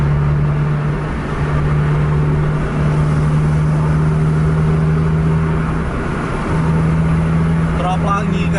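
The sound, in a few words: bus engine on the road behind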